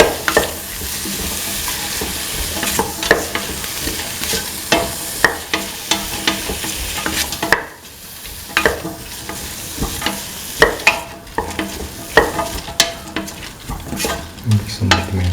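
A chickpea and snake gourd stew in coconut milk is stirred in a pan, with steady scraping and clattering spoon strokes over a soft background sizzle, close and continuous with a brief lull midway.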